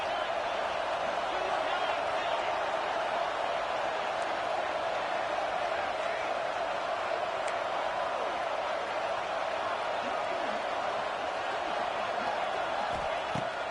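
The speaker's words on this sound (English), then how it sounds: "the Buckeye crowd alive on 3rd down." A football stadium crowd at an Ohio State Buckeyes game roars on a third down, a dense, loud and steady wall of cheering that holds for the whole stretch without letting up.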